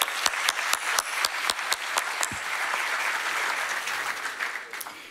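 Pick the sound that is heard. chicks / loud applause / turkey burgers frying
loud applause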